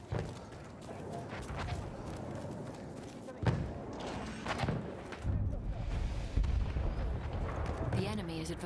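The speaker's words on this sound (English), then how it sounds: "The enemies are being halted by our artillery barrage." Artillery barrage in the World War I game Battlefield 1, a steady roar of heavy booms and blasts with rumbling impacts overlapping, loud and continuous, with voices speaking over it.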